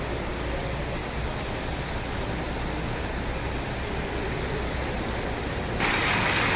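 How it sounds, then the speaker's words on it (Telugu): A small waterfall pours over rocks in a continuous broadband rush, steady and fairly close, growing brighter and louder in the final second. "కొండ మీద నుంచి వాటర్ పడుతుంది"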